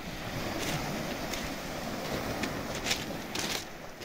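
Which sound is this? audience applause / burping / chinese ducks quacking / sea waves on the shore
sea waves on the shore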